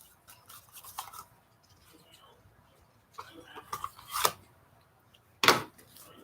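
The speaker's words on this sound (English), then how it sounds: "Let's pull these cards." Tarot cards are shuffled and pulled close by, making a few short, scratchy papery bursts with quiet pauses between them.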